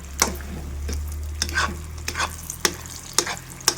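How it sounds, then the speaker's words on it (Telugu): Grated coconut sweet stirred through ghee in a pan, with a spoon scraping and clacking against the metal in a loose, repeating rhythm over a soft, steady sizzle, close and fairly quiet. "ఇప్పుడు నెయ్యి వేసుకున్న తర్వాత కూడా కాస్త అటు ఇటు కలిసే వరకు కూడా కాస్త తిప్పుకోవాలి"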